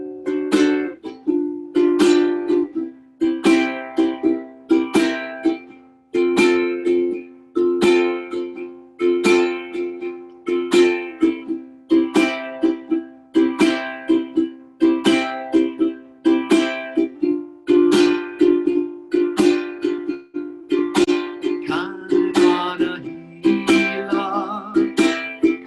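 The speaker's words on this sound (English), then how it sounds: "Some people like to refer this as the Reggae Strum" Ukulele played in the Hawaiian reggae strum pattern: steady rhythmic chord strums with crisp muted chucks on the offbeats, bright and close, repeating evenly throughout with no voices.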